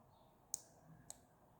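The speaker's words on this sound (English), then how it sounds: "By pressing it, it clicks. You can hear the click." A small push switch on an LED micro reading lantern clicks twice, two sharp, close, faint clicks about half a second apart against a quiet background.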